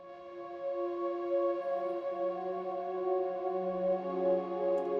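Two layered synth pads, a light choir voice and a solitude pad, hold steady sustained tones that blend into one smooth ambient chord, with no voices.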